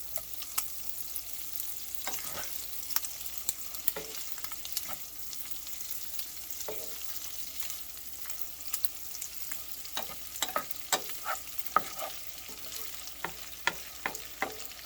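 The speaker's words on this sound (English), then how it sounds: "you're going to want to add your butter. You're going to want to melt that." Butter melts in a pan over browned crispy sausage for sausage gravy, giving a soft steady sizzle dotted with irregular scraping and stirring clicks, close and fairly quiet, with no talking.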